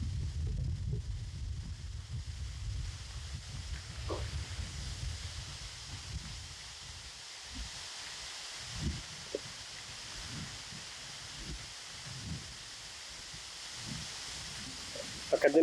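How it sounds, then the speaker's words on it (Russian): Strong, gusty wind buffets the microphone near the water in an outdoor miniature park, with low rumbling gusts that ease off partway through, leaving a steady airy hiss. "здесь вообще очень сильно ветрено"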